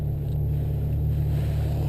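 A Ferrari FF driven in sport mode, its engine giving a steady low drone with a constant hum throughout, heard from inside the car without any talking.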